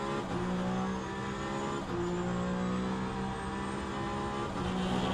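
A Peugeot hypercar on a qualifying lap, its engine a steady droning whine buried under constant loud wind rush and cabin noise, continuous throughout with no pauses.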